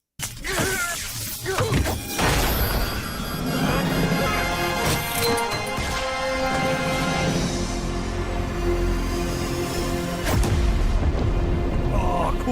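Loud crashing blasts and shattering debris from a Sonic game, sustained heavy rumble throughout with a few sharp impacts and brief voice snippets mixed in.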